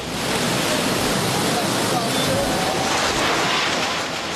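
Tsunami water flooding a fishing port in Japan: a loud, continuous broadband roar of rushing water, steady and unbroken like a torrent, with no clear individual events standing out.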